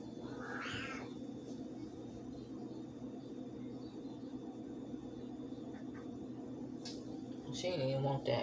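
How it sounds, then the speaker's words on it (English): An indoor house cat gives one short rising-and-falling meow at the start, followed by a quiet room hum and some faint clatter and shuffling toward the end. "I don't know what's wrong with that kitty."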